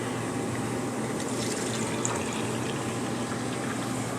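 Plain water pouring steadily into a container, a continuous close splashing and trickling flow at moderate level with no talking.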